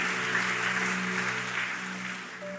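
Steady applause from a church congregation, continuous clapping that holds at a fairly even level before easing slightly near the end, with a low hum underneath.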